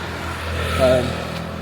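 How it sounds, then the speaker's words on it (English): Road traffic along a highway in Thailand, a steady engine rumble with a car swelling past at close range midway, heard from the roadside on foot. "Now I'm walking alongside a highway, which is sound."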